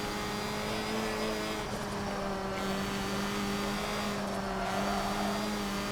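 Formula Ford race cars in Forza Motorsport 7 hold a steady, droning engine note at high revs through a lap, with the pitch shifting slightly as the cars pass.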